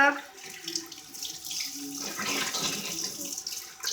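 Tap water running steadily into a sink during face washing, a close splashing rush that changes texture as hands move through the stream, with a voice briefly audible near the start.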